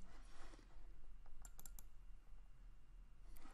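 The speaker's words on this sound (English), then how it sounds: "Let's start by double clicking on the document I want to open." Faint computer mouse clicks, including a quick double-click on a document, sound over a quiet office hum without any talking.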